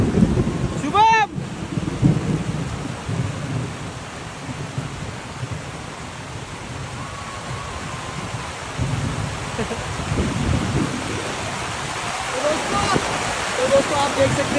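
A sudden downpour on an outdoor cricket tournament ground, a steady wash of heavy rain that holds throughout, with a short loud crack near the start and faint voices at times beneath it.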